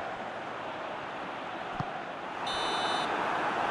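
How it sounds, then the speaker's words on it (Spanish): In the football video game PES 2022, the referee's half-time whistle sounds as one short, shrill blast over steady stadium crowd noise near the end. "Suena el pitido que señala el descanso del partido."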